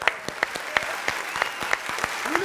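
A small group claps in a brisk, even rhythm of about three claps per second, fairly close and moderately loud.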